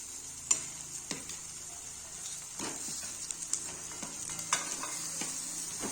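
A spoon stirs stuffed eggplant curry with spices in a pan, giving soft scraping strokes and occasional sharp taps on the metal over a quiet, steady sizzle.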